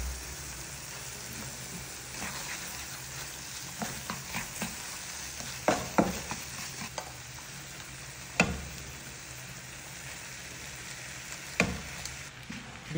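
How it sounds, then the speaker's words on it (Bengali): Pasta in sauce sizzling in a frying pan while being stirred, with a continuous low fry hiss and scattered sharp clicks of a utensil against the pan, close and fairly quiet. "বিশেষ করে এখন নাড়তে হবে, ভালো করে নাড়লে তারপরে উপরের যে অংশটা আছে সেটাও অ্যাড হয়ে যাবে"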